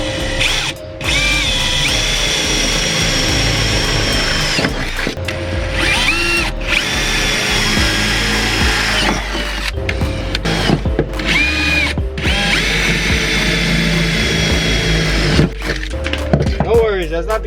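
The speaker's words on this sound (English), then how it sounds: "I don't want all the shavings from drilling these holes stick inside of that damn silicone" Power drill boring holes for a battery relocation overflow in a car trunk, in several loud whirring bursts of a few seconds each, separated by short pauses and handling noise, with someone talking between the runs.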